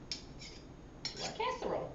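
Tuna noodle mixture being spooned into a casserole dish, with a few light clinks and scrapes of a metal utensil against the dish, close and fairly quiet.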